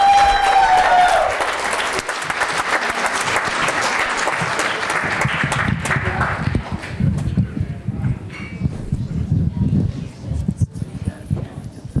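Audience applause for a performer at a live show, loud and dense at first, then thinning into scattered claps as rumbling stage noise and handling sounds take over toward the end.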